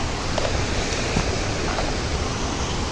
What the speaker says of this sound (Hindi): दिस इज वाटरफॉल, बहुत ही बड़ा है